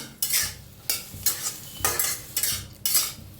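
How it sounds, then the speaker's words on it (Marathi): Onion is dry-roasted in a pan before any oil goes in, pushed around with a spatula in five or six rhythmic, close scraping strokes with brief pauses between. "कांदा मी असं जरा भाजायचं नंतर तेल ओतूया"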